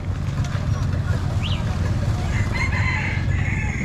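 A rooster crows at a misty early-morning market in Thailand, a faint call rising briefly over steady crowd murmur and low rumbling background noise.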